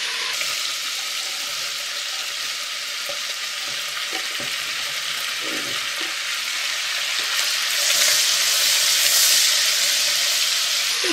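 Bacon for bigos sizzles as it fries in a pan, a steady close crackling hiss with occasional pops and faint stirring, growing slightly louder and brighter toward the end.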